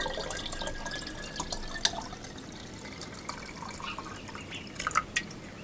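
Water is added to a batch of jun kombucha, giving irregular drips and splashes with sharp little plinks that rise toward the end, close and fairly quiet.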